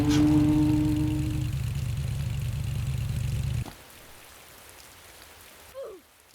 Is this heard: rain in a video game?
yes